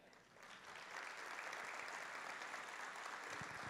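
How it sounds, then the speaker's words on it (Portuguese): A church congregation breaks into applause, rising within the first second into a sustained, even wash of many hands clapping, heard at a distance and fairly faint. "Vamos aplaudir ao Senhor?"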